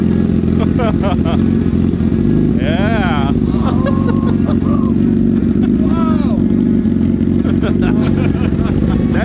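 A Honda CBR motorcycle fitted with an SC Project exhaust idles close by with a loud, steady, deep rumble. People talk briefly over the engine.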